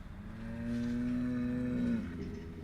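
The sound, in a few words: cows mooing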